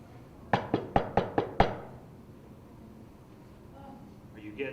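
Six sharp, evenly spaced knocks on an office door, fairly close and crisp, followed by quiet room tone with faint voices near the end.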